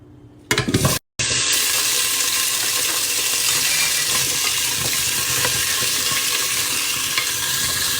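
Onion, potato, carrot and chilli peppers sizzling in hot oil for lentil soup, with a brief clatter as they go in, then a loud, steady frying hiss with stirring, close up.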